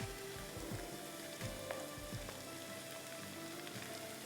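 Three chopped green chilies go into a frying Balochi karahi, with dense, steady hissing and spattering oil throughout and occasional soft knocks in the pan.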